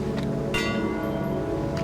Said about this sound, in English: But we do need to use the bells.